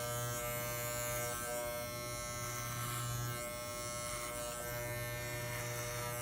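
Electric hair clippers fitted with a number 1 guard buzz steadily through a fade haircut, a close, continuous motor hum that dips slightly as the blades move through the hair.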